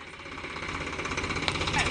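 A tractor engine runs in a farm field with a steady, close, rumbling chug and rhythmic knocking pulses that hold throughout.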